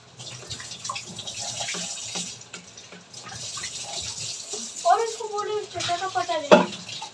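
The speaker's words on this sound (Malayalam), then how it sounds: "ഇനി അതെല്ലാം ഒന്ന് കഴുകി ബോട്ടിലുകളിൽ വെള്ളം നിറയ്ക്കണം" Tap water runs and splashes while bottles are being filled, a steady rushing wash with brief knocks, and a voice rises partway through near the end.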